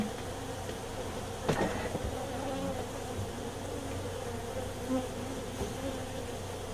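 Honey bees buzz at a hive inside a house, a steady dense drone held at close range throughout, with a couple of faint knocks.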